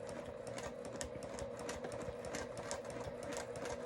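A sewing machine stitching steadily during free-motion machine quilting, a fast even mechanical chatter of the needle running continuously at close range with no talk.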